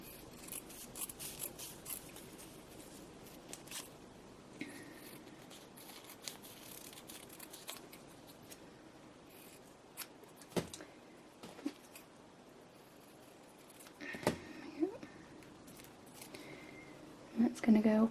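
Scissors snip through fabric or paper pattern pieces for a free motion embroidery cow, with scattered crisp cuts and rustling spread across the stretch, heard close and fairly quiet.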